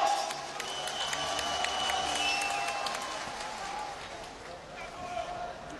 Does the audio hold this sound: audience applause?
yes